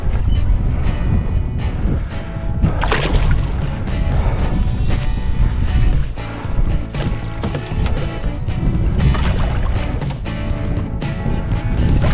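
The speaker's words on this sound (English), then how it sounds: "I'm holding my hands here to try and cover up the mic as much as possible from the wind" Strong wind buffets the microphone out on a lake during a fishing trip, a constant loud roar with rough gusts and occasional knocks and bumps throughout.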